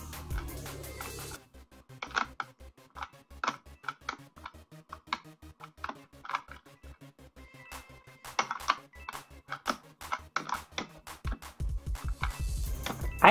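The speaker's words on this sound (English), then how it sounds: "I hear a lot of coins being collected." Rapid chimes of coins being picked up in the Roblox game Murder Mystery 2, a quick irregular string of bright pickup sounds scattered across the stretch, moderately loud, with no talk.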